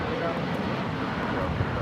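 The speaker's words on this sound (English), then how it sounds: "2722 taking off to Newark on the 757-200" A United Airlines Boeing 757-200 takes off at LAX, bound for Newark, with a steady, loud broadband jet roar that holds level throughout.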